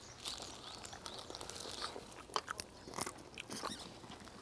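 Close, quiet chewing of crab meat, with soft wet bites and small crunches scattered irregularly over several seconds, with no talk.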